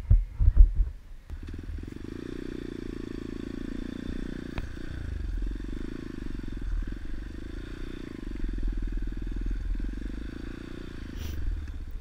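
A trail motorcycle idles and putters on a forest mountain trail on Gunung Raung, a steady low engine throb close by after a few clunks at the start, with no talk.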